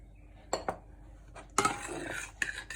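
Quiche filling of cream, milk and cheese being mixed with utensils, giving several crisp clinks and scrapes of metal against a dish in short bursts, followed by a longer stretch of steady clattering stirring close by.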